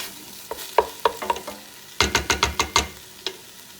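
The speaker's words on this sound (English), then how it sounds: "The meat is almost brown." Ground meat being stirred and browned in a pan for a bolognese sauce, a series of close scraping, clattering stirring strokes in bursts over a steady low sizzle.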